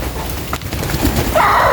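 Rain falls outdoors where chickens are being fed, making a loud, steady, dense hiss throughout this short stretch with no speech.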